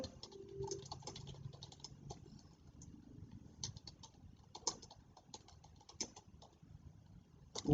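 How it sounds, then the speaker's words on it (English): Fingers tap steadily on a computer keyboard, with quick, irregular clicks and a few louder keystrokes, soft and close, without speech. "I will type it now."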